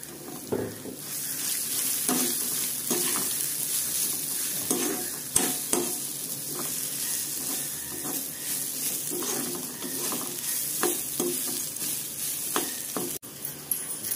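Grated coconut fries in a pan for coconut rice, with a steady sizzle under repeated scraping stir strokes at an uneven rhythm, close and moderately loud.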